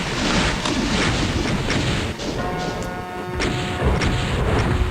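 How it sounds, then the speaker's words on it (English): Loud rocket launcher blasts and crashing explosions in Doom, played on the Sunlust map Inverti in Darkness, repeating every second or so over constant game noise and monster sounds. "But the rocket launcher makes a big difference."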